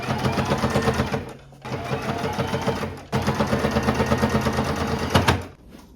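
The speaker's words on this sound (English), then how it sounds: "we can do a straight stitch all the way across" Sewing machine straight-stitching across a hem folded under twice on a dress made from a thrifted bedsheet, running in three loud, close bursts with brief pauses between them.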